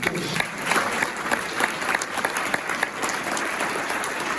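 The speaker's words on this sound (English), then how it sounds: "So you need to give yourselves a big applause for at least recognizing the fact that we are all one people." Conference audience applauding steadily throughout, a dense, continuous patter of many hands clapping at moderate loudness with no break.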